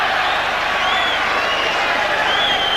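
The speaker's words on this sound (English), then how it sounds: "the crowd spotted and liked the look of the McGuigan left hook to the body" Boxing crowd at a featherweight bout applauds and cheers a left hook to the body, a dense, steady wash of clapping and crowd noise throughout.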